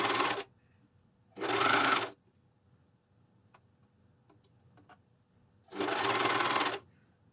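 A Juki MCS1500 coverstitch machine stitches narrow 5–6 mm knickers elastic in three loud, even bursts of rapid mechanical whirring, each about a second long, separated by quiet pauses with faint ticks.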